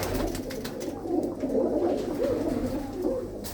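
Pigeons coo softly in a loft in Ludhiana, males and females kept together, their low murmuring calls repeating against a faint hum of background noise.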